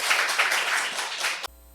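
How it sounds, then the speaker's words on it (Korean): A church congregation claps together after a Sunday sermon, a full burst of applause that cuts off abruptly. "우리 하나님께 박수 올려주세요."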